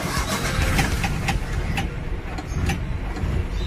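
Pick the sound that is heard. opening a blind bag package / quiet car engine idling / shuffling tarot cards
quiet car engine idling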